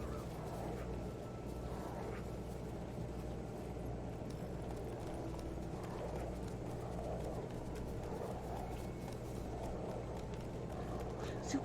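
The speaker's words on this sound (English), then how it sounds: "Didn't we leave our horse right here?" A horse's hooves clip-clop at a steady, even pace through The Witcher 3, a soft, continuous trot that carries through the clip under a quiet, constant background.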